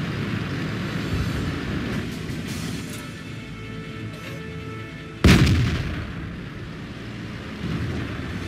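A Leopard 1 tank main gun fires once in World of Tanks on the El Hallouf map, a sharp loud boom midway that is followed by a rumbling decay, over a steady low engine drone.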